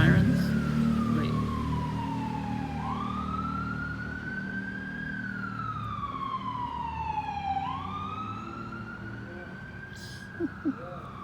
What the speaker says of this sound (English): You have the sirens?